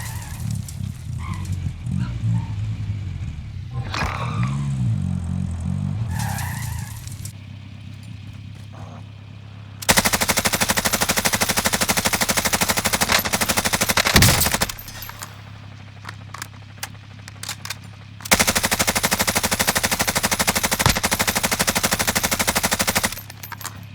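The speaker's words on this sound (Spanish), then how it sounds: "Hay gente que le está disparando a la otra tienda" Gunfire in a video game: long bursts of rapid automatic fire crackle loudly in two extended volleys, with scattered single shots and quieter game sounds between them, no talking.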